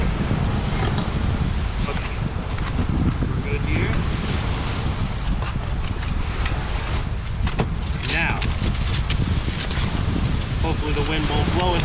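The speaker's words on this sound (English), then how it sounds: "Wind will blow us over." Strong wind roars continuously across a microphone at the beach, with surf beneath it and occasional speech and handling noises from someone cooking fish outdoors.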